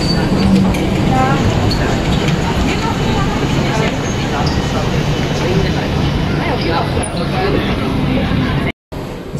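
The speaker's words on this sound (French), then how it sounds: "C'est donc un ICE en provenance d'Hambourg qui a amené à Zurich" An ICE train from Hamburg at Basel station at rush hour, a steady rumbling roar of rail traffic with faint squeals, close and loud throughout, with people talking in the background.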